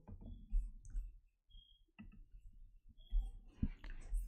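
Sparse keyboard clicks come as code is typed, quiet and close, in short irregular bursts separated by brief pauses.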